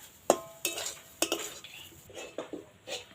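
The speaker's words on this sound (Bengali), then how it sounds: "এটা খুব ভালো করে নাড়িয়ে নেব আর একটু শুকনো শুকনো করে নেব" Semolina mixture for suji laddu is stirred in a pan, with a handful of sharp metal spoon clinks and scrapes against the pan at an irregular pace, close and fairly quiet.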